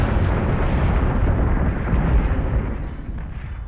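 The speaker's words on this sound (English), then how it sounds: "Let the cannons battle this one out." Space battle in Battlestar Galactica: Deadlock, with cannon fire and explosions merging into a loud, dense, rumbling barrage that stays constant and fades slightly toward the end.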